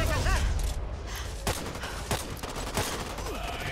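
Dense gunfire in the zombie shooter Back 4 Blood, a steady loud fusillade of overlapping shots with a few sharper cracks, continuous throughout with a voice speaking over it.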